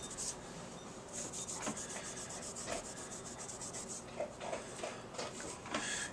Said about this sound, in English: then wipe off any excess with a clean, lint-free cloth